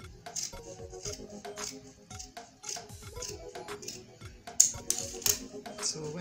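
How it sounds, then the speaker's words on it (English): Scissors cut through Ankara fabric for slippers, a series of close, rhythmic crisp snips and clicks repeating steadily, with light handling noise. "I'm going to cut this off."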